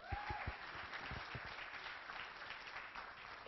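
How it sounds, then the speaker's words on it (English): Applause from a crowd at a children's talent show grand finale, steady and continuous for the whole stretch with a few louder claps at the start, heard at a distance and fairly faint. "Give yourselves a round of applause"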